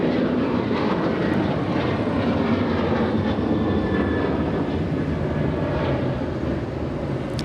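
Continuous jet rumble from a Lufthansa Boeing 747-8 at LAX, a dense, even roar that stays loud and steady from start to finish with no talking.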